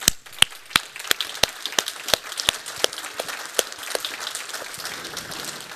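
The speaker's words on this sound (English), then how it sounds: "let's kick off this conference by standing up, all of you, and applauding ourselves" Audience applause at the opening of a climate and sustainable energy conference. Loud individual claps start it, then many hands join into a continuous, fading patter of clapping from a standing crowd.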